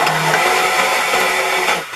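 A blender whirs steadily as it mixes jalapeno butter, a loud, close motor drone that drops away at the very end.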